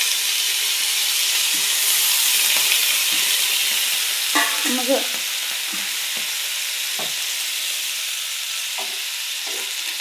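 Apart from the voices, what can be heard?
food frying and being stirred in a pan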